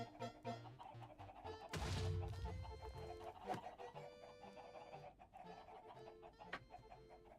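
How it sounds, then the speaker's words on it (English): Chickens cluck repeatedly in the modded Minecraft pack All the Mods 8, with a louder burst of squawking near the start and further clucks continuing against game sounds. "Breed up the chickens, make sure they're all stacked up"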